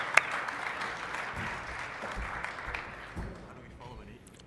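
A small audience at a Space Apps Toronto event claps for a team coming up to pitch, giving a short burst of clapping that tapers off while a person talks over it.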